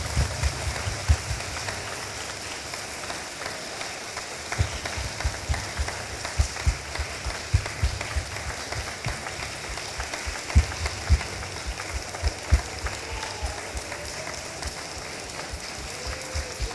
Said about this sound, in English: join me in giving a huge round of applause for a lot of our distinguished guests here now